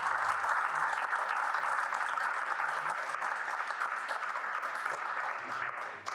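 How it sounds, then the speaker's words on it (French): An audience at a fundraising evening in Alfortville applauds warmly, a sustained, even roar of many clapping hands that fills the room, tapering slightly at the very end. "On peut l'applaudir, mais vraiment chaleureusement"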